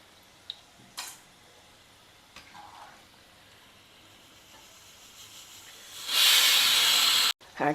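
Pieces of bitter gourd fry in hot oil, giving a quiet hiss broken by a few crackles, then a loud burst of bubbling sizzle that cuts off abruptly before resuming.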